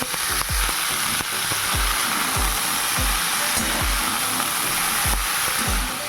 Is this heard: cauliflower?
yes